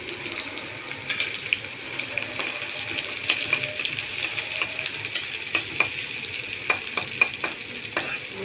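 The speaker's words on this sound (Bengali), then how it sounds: "এবার আমার পেঁয়াজটা ভাজা ভাজা হয়েছে" Onions frying in a pan give a constant bright sizzle throughout, dotted with quick clicking stir strokes, close and fairly loud, with no speech.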